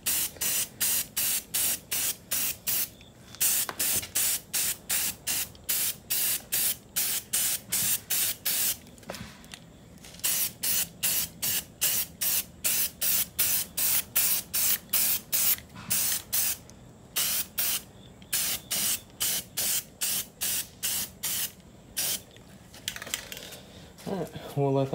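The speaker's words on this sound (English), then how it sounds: "we'll move it around and spray the rest of it" Rapid, repeated bursts from a spray can of primer on a 1968 Mustang, hissing in short rhythmic pulses with brief pauses, close up and fairly loud, with occasional light clinks.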